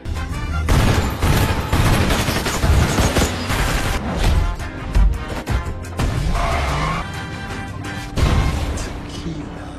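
Gunfire in a movie shootout with cars involved: loud, dense, sustained bursts of shots and crashing impacts, mixed with other heavy action sound throughout.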